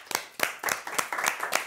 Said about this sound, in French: S'il vous plaît, applaudissements pour Jacques Roch